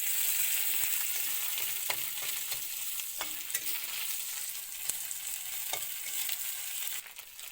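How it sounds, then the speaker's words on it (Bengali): Rinsed dried fish dropped into a little oil in a wok, giving a loud, steady, close sizzle with a scatter of brief clicks and scrapes, no talking, easing slightly at the very end. "ধুয়ে রাখা শীতলটি তেলে মধ্যে দিয়ে দিলাম"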